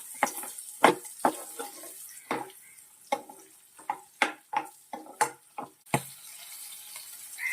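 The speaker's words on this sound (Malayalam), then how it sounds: "ഇഞ്ചി, വെളുത്തുള്ളി ചേർക്കാം. നല്ലതുപോലെ വഴറ്റിയെടുക്കാം." Onion, green chilli, ginger and garlic are stirred in coconut oil for prawn roast, with a faint sizzle under a dozen distinct spatula scrapes and taps against the pan.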